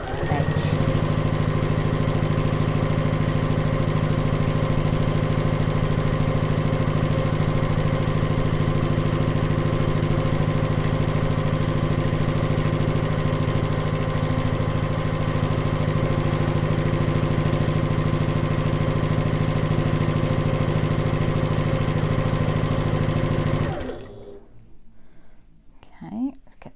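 A sewing machine stitches an Adventurer Sling bag in a steady, continuous hum that runs unbroken for over twenty seconds and then stops abruptly, followed by faint handling sounds; a voice talks quietly over it.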